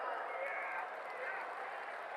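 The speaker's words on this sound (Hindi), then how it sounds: "अच्छा, हिंदी में बोला तो ताली" Sustained applause from a large audience at a Hindi-language political speech, a steady dense wash of clapping that holds evenly throughout without any voices on top.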